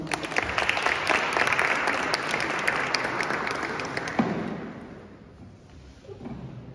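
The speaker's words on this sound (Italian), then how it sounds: "Dedichiamo un applauso." Audience applause at an Italian book presentation press conference, sustained clapping from a crowd for several seconds, gradually thinning toward the end.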